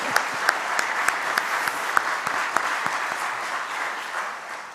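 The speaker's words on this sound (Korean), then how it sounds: "다시 한번 우리 장로님들에게 박수 한번 드릴까요?" Worshippers at a church prayer meeting applaud the elders, a soft, steady roll of clapping with a few sharper individual claps standing out, gradually easing toward the end.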